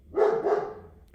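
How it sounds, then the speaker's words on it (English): A single dog bark, moderately loud and slightly distant, with a brief sharp click right after. "as you can hear the dog in the background"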